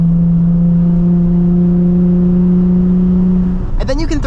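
A Nissan 350Z engine hums at a steady idle, then revs sharply near the end, its pitch climbing quickly.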